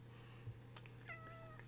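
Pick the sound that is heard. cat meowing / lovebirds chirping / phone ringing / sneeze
cat meowing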